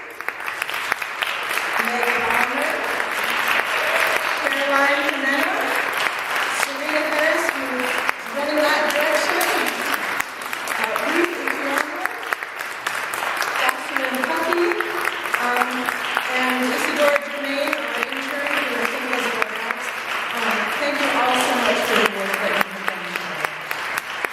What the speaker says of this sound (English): So will you please give a round of applause to my colleagues, Bonnie Diamond,